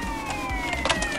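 A police siren wails from a moving vehicle during a game scene, its steady tones sliding slowly downward over engine and road rumble, with a few knocks and thuds.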